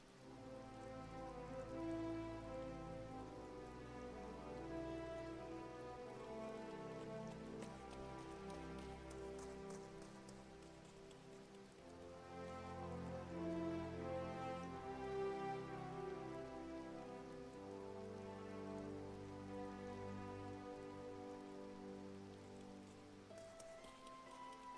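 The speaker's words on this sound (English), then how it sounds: "it sucks that it's actually raining right" Rain falls in the Final Fantasy XIV game world, a steady patter on surfaces that runs without a break, swelling slightly at times and layered over soft background music.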